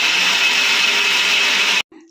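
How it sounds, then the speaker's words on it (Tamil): A mixer grinder grinding tamarind paste for ridge gourd skin chutney whirs loudly at a steady high pitch, then cuts off abruptly, leaving a brief faint rattle. "புளி பேஸ்டையும் சேர்த்து நல்லா மிக்ஸில அரைச்சு எடுத்துறணும்"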